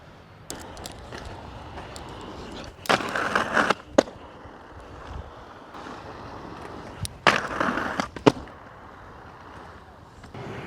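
Inline skates grinding along a ledge in a run of combined grind tricks, with two loud scraping bursts a few seconds apart over quiet background noise and a couple of sharp clacks from wheels or frames landing.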